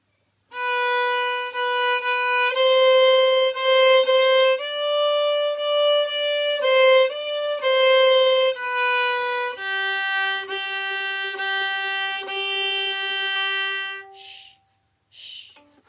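A solo violin plays a short melodic phrase of sustained, bowed notes, clear and close, ending with a brief pause and a couple of faint final sounds.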